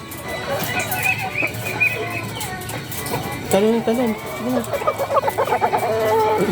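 Close chicken clucks and squawks from a rooster, rising into excited calls near the end, with a person talking softly in the background.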